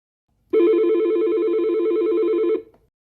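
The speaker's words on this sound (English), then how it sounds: "Then dial the number or extension you want to transfer the call to." A Yealink networked desk phone gives a single steady electronic keypad tone lasting about two seconds, loud and close, then cuts off cleanly into silence.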